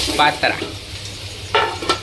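Patra rolls dropped into a hot sesame-seed and asafoetida tempering, then stirred with a spoon: bright sizzling bursts with metallic scraping strokes, loud and close, a pause between two clusters.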